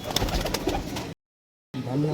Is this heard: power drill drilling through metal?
no